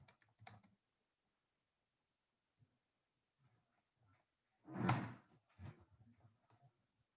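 Scattered keystrokes on a computer keyboard as code is typed, soft isolated taps and short clusters with one louder thump midway and long quiet gaps between.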